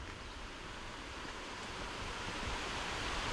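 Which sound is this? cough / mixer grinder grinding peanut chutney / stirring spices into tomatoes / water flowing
water flowing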